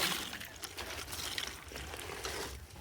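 Broth is poured into a bowl for a dog, a soft, steady liquid trickle heard close and fairly quiet.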